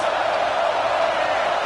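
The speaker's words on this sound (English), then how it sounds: "This crowd trying to make life miserable for this offense." Roaring football stadium crowd in Baton Rouge, a steady, dense wall of cheering and noise sustained evenly throughout without letup.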